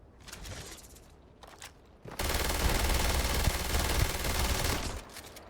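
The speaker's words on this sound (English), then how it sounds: "I love just dumping that mag. It's so fun. I love the gun sounds." An automatic video game gun fires in a dense, continuous burst that dumps a full magazine, loud and close, preceded by a few scattered shots and quieter game noise.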